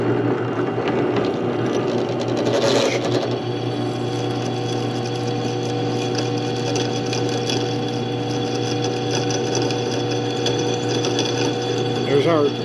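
A CNC machine mills an aluminum door pull with a loud, steady mechanical whine and droning hum, holding continuous for the whole span while a voice talks faintly beneath it.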